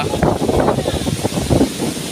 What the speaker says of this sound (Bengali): দেখুন কি ঝোড়ো হাওয়া।